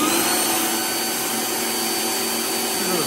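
A Bosch PBD 40 drill press runs steadily at 500 RPM, a continuous motor whine with a broad whirring hum that holds level throughout, close and loud, with no talk.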